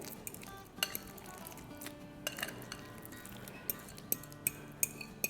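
A spoon clinks and scrapes against a bowl while mashed, slightly chunky banana is stirred for banana bread batter, with sharp taps growing louder and more regular toward the end, close up and with no talking.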